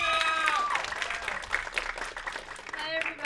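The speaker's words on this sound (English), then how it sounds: "Please give a round of applause to Vivian." Audience applause for a presenter opening an Intro to Svelte workshop at the HackSC 2023 hackathon, a steady clapping wash lasting a few seconds with a voice speaking over it.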